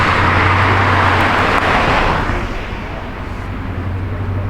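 Street traffic in the town of Black Mountain, a loud, close passing vehicle roaring by and then fading into a lower steady road rumble, with no talking.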